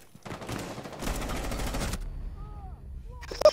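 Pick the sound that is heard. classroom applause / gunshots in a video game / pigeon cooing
gunshots in a video game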